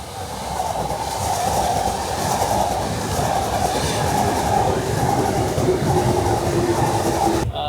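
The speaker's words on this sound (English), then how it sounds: "It's like trains going left to the right of us." Trains rolling past on the Hakone rail lines, a steady loud rumble with rail hum and faint squeal carrying on for several seconds, no talking.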